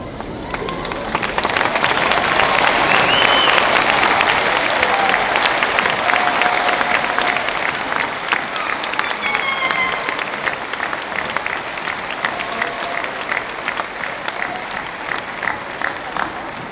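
A high school graduation ceremony audience applauds former graduates of Cheney High School with sustained, dense clapping across the crowd, loud at first and gradually thinning, with some cheering and voices mixed in.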